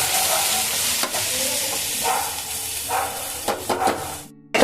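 Boiled, mashed banana stem is stirred into a frying pan, a continuous close sizzle and hiss with soft scraping strokes of a spatula, then a sudden drop into silence near the end.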